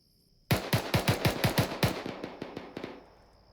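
A rapid burst of automatic gunfire in the military shooter ArmA 3: about a dozen sharp, evenly spaced shots crack out close and loud, then trail off into echoing distant pops.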